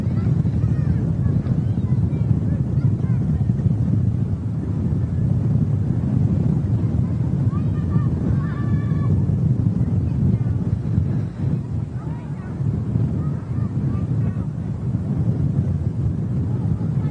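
Strong wind buffets the microphone outdoors at Manchester Airport, a loud continuous rumbling roar with gusty swells throughout, and faint tonal engine-like sounds drift in the middle.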